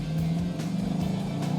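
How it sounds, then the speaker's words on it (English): A 2017 Chevrolet SS with a 6.2-liter V8 revs hard through its opened active exhaust, a loud, steady, deep engine roar sustained close by with no talk over it. "oh man, that active exhaust opens up and it just sounds fantastic"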